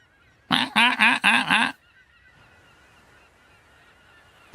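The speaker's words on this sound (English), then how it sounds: "There's those seagulls, listen." A seabird by the sea gives a quick run of five loud, harsh honking calls close to the microphone, then falls silent, leaving a low hiss of wind and surf.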